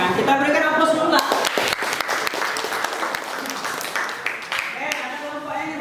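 An audience claps after a group presentation in a classroom, with a burst of applause that starts loud and then trails off over several seconds while voices continue beneath it.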